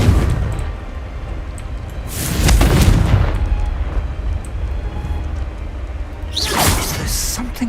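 A Confringo fire spell in Hogwarts Legacy detonates as a loud, deep boom with a rushing whoosh, and a second fiery burst with a rising swish follows a few seconds later.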